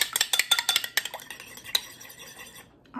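Two eggs being mixed in a bowl for a pineapple cake: a quick run of light clinks and taps from a utensil against the bowl that slows and thins out toward the end.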